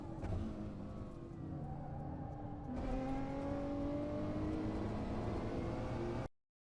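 Racing car engine in Assetto Corsa at the Tokachi circuit, a steady loud engine drone that drops in pitch under braking then climbs again as the car drives on, ending abruptly.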